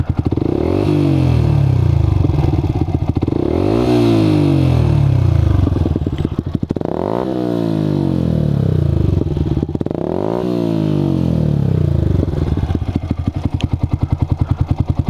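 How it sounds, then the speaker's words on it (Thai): A Yamaha MSlaz 150 motorcycle with an Akrapovic-style aftermarket exhaust is revved repeatedly, rising to a loud roar and dropping back several times in waves, with a rough, raspy exhaust note up close. "ต่อมามาฟังเสียงตอนเบิ้ลนะครับ"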